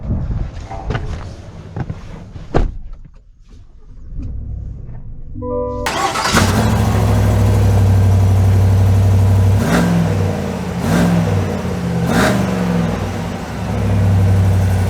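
A 2023 Chevy Silverado 1500 LTZ with a 6.2L V8 starts after a few quiet clicks, then settles into a loud, deep rumbling idle with occasional revs, close up.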